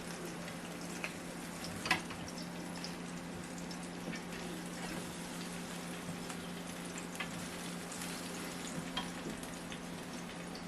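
Chicken drumsticks sizzle steadily in a Ninja Foodi Grill XL after being flipped, a continuous close crackle of frying with one brief louder clack near the start and no talking.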